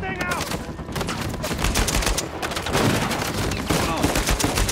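Dense, continuous gunfire from a shootout in the video game Uncharted 4, with overlapping bursts and heavy automatic fire running through the whole stretch under an excited commentator's voice.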